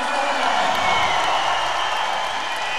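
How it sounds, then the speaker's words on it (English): Armenian fans in a weightlifting championship arena applaud and cheer a home favorite, a dense, loud, steady wash of clapping and crowd noise that holds for the whole stretch. "Getting a huge applause from the Armenian fans."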